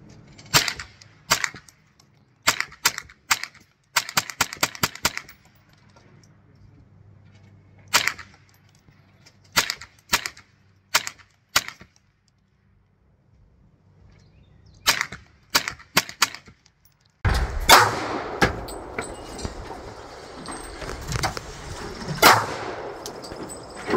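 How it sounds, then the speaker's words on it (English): Gunshots ring out at an outdoor shooting session, with sharp loud cracks in quick bursts and single shots spread across the clip. A denser, louder stretch of fire comes near the end. "good amount of shooting you did"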